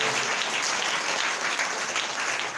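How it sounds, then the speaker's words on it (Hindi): A church congregation at a Sunday meeting claps loudly, a dense and steady burst of applause that fills the room for a few seconds with no talk over it. "जोरदार ताली बजाकर धन्यवाद देता हूं"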